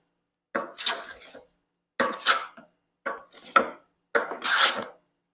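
Hand plane shaving broad curls of wood: four distinct rasping strokes, each about half a second long, separated by short pauses, close and crisp with no talk.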